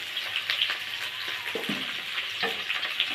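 Potatoes frying in oil with salt and turmeric, a steady close sizzle with occasional soft stirring scrapes, no talking.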